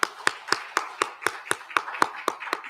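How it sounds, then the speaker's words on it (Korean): A church congregation at a Sunday morning service claps for a newly registered member, with about eleven crisp, evenly spaced claps in unison, one every quarter second, and no talking. "박수하겠습니다"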